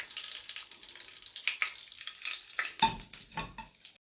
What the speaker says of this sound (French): On prend directement, on met dans de l'huile et on va faire frire.